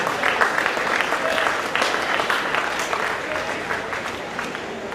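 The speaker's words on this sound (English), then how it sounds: "can you please give a round of applause?" A crowd at an awards presentation after a basketball league final gives a sustained round of applause, with many hands clapping in a steady, moderately loud wash and some voices underneath.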